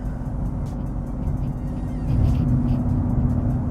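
A 2018 Ford Mustang with an automatic transmission cruises steadily on the road, its low engine and road drone constant. The sound builds slightly partway through, with faint talk inside the cabin.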